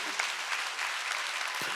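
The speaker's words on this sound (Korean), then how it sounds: "박수" Congregation clapping at a Korean church summer revival service, a steady broadband wash of many hands applauding together, sustained and fairly even throughout with no voices standing out.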